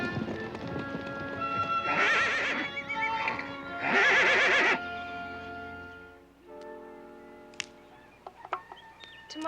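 Horses from the Assateague herd, mares and stallions, whinny and neigh in two loud, long calls, with hoof clip-clop and scattered clatter following as the calls fade.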